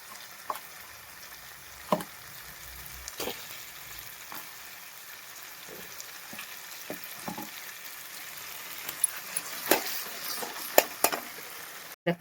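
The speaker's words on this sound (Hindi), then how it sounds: "देखो ये भुज्जी छोंक दिया, 5 मिनट तक इस आंच लगा लेंगे भाई, हल्की हल्की।" Bhujji sizzles steadily as it is tempered in a pan over low heat, a soft continuous frying hiss broken by occasional sharp crackles and stirring clicks, with no talking.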